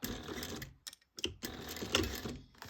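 A sewing machine running a quarter-inch seam on a crossbody bag, its motor whirring steadily in close bursts, with a brief stop near the middle before stitching resumes.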